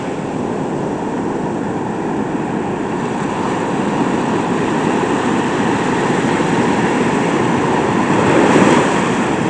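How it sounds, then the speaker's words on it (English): Big ocean waves crashing offshore, a loud continuous roar of surf with wind noise, steady throughout with a slight swell near the end and no voices. "Some pretty big waves out there."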